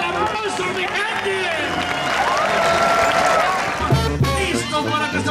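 Applause and crowd noise erupt at a roulette prize award as a ten-thousand-dollar prize is handed over, loud and continuous, with music and voices mixed in throughout.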